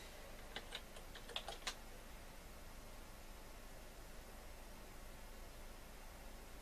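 Keys tapped on a Vtech 386 SX 33 laptop keyboard come as a short, faint cluster of clicks early on, then fade into a steady background hiss.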